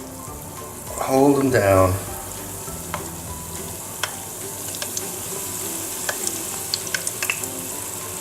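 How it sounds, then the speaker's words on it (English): Chimichangas deep frying in hot oil give a steady close sizzle with scattered crackling pops, briefly swelling as they drop in; a voice speaks over the frying. "So into the hot oil, drop it down,"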